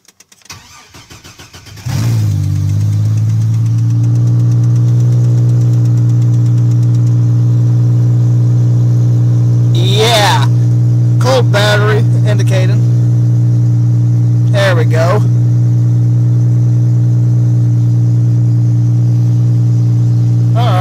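A 2002 Chevrolet TrailBlazer LTZ engine cold-starting at 10°F: a short cranking burst, then the engine catches and settles into a loud, steady idle with a droning hum, briefly broken by faint voices.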